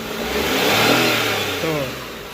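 A Renault Kwid 1.0 AMT engine revs up loudly and close by, the note rising to a peak and then easing off over a couple of seconds with a brief hanging rev, and no talking.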